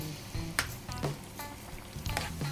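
Green chilies and cumin seeds frying in oil over medium gas for a Sri Lankan cashew and green peas curry, a close crackling sizzle with small pops and stirring scrapes.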